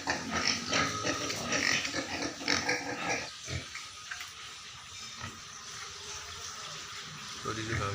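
Pigs in a farm pen grunt and snuffle loudly and close by, busiest at first and then calmer, with water splashing and running around them.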